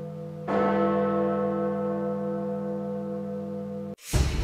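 A single deep strike of Big Ben, the great clock tower bell, rings out after restoration and hums with a long, rich sustaining tone for several seconds before a sudden cut to a burst of noise.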